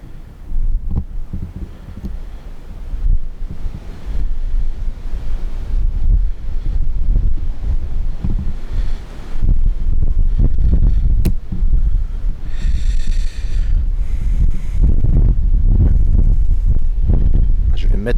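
Gusty wind buffets a microphone outdoors near an abbey at night, a loud, continuous low rumble that swells and drops, with brief sharper gusts toward the end.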